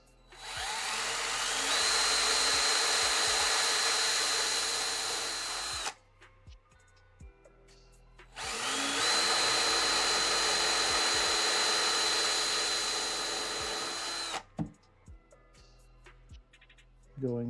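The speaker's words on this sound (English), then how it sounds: "So let's drill our little holes here." An electric drill bores small holes into a bartop arcade cabinet, running in two long, steady whining bursts of several seconds each, with quiet handling clicks in the pauses.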